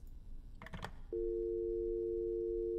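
A video game telephone plays a brief electronic blip, then a steady loud dial tone sustains alone for the remaining seconds.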